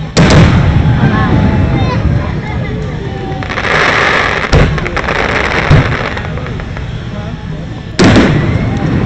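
Fourth of July fireworks in Tulsa, Oklahoma, burst in loud booming explosions with crackling tails, several bangs over about nine seconds, while nearby spectators talk and react.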